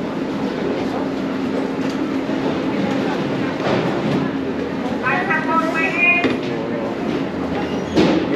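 New York subway train running during a crowded evening rush, a steady rumble and rattle of the cars throughout with a brief squeal of wheels or brakes near the end.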